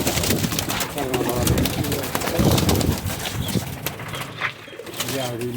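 Pigeons coo in repeated, throaty, rolling calls close at hand, mixed with some flutter and background bustle, while someone talks over them.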